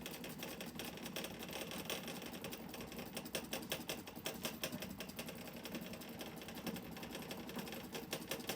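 An embroidery machine stitches over black thread on a teacher patch, giving a steady, rapid mechanical needle clatter that runs continuously and fairly quietly, with no talking.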